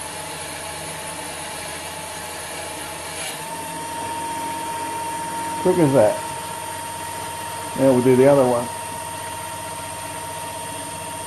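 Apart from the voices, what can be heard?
lathe radial drilling cast iron with a 775 DC hobby motor spindle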